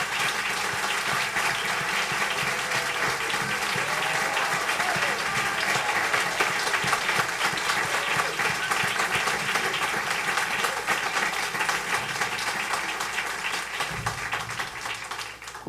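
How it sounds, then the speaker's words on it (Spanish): Sustained audience applause for Francisco at a 2016 concert with Mónica Gastelumendi and Francisco Sagasti, a dense, even wash of clapping from a large crowd lasting the whole stretch before tapering slightly at the end. "Y un aplauso para Francisco."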